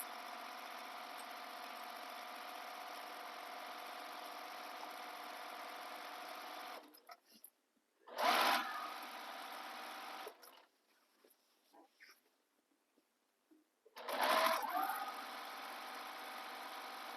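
Sewing machine topstitching around the edge of a tote bag, running in steady whirring bursts of several seconds each, with short pauses and handling noises between runs, close and clear with no talking.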